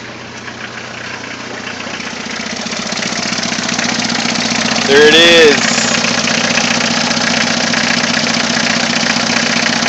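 Isuzu C223 diesel engine swapped into an S-10 4x4 pickup, cold starting and then idling with a steady knocking clatter, close and loud throughout; someone speaks briefly midway.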